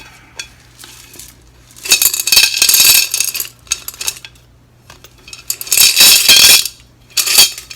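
Rocks drop and rattle into a container in bursts of clattering and clinking, loud and close, with quieter shuffling in between.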